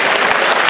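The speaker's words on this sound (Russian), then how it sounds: "Я думаю, вы сейчас бурными аплодисментами их встретите." Dense audience applause at a gala concert of Tatar performers at the Kremlin, a brief burst of many hands clapping loudly and evenly, with no talking.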